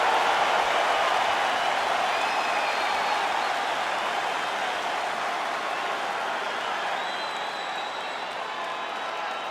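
Capacity arena crowd at UFC 309 before a lightweight championship fight, a broad roaring wash of cheering and applause that holds steady, then eases slightly toward the end.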